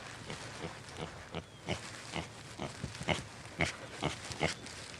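A pig moving around in a wheelchair-style wheel cart gives a string of soft, rhythmic grunts and snorts at close range, fairly quiet and evenly spaced.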